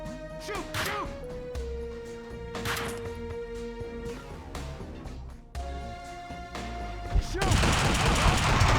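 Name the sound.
gunshots in video game Max Payne 2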